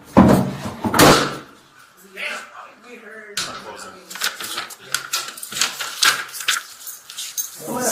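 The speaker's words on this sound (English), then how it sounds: "Slamming doors." Doors slam hard at a building during a police bodycam encounter, with loud sharp bangs near the start and rattling knocks later, mixed with people talking.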